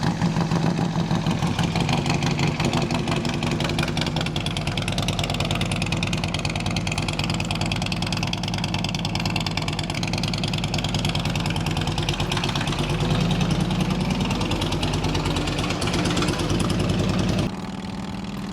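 A Harley motorcycle fitted with 38-inch fishtail exhausts runs at a steady, loud, rumbling idle for the whole stretch, with a slight change in tone just before it ends; no talking.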